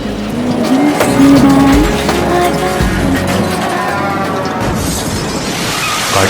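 A loud car skid and crash sound effect: tires squeal sharply for about a second and a half, then a heavy thump and rumbling impact noise trail off over several seconds, with no voices.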